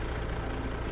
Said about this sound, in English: I've got a DD60 in here, which has got a little more throaty sound to it